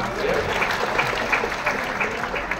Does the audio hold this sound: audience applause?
yes